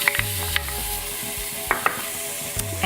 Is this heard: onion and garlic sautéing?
yes